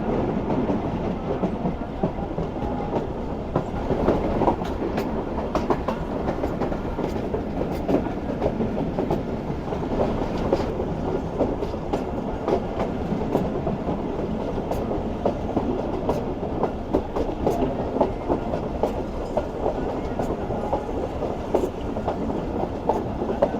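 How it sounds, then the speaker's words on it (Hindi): A train rolls toward a railway station in heavy winter fog, steady clickety-clack of wheels on rails with a continuous rumbling, close and sustained throughout, no talking. "ये ट्रेन अब हमारी अप्रोच बना रही है रुक रेलवे स्टेशन पर"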